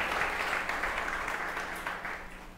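A church congregation applauds for Jesus during a worship service. The applause is a soft, fairly distant patter of many hands that fades slightly over a few seconds.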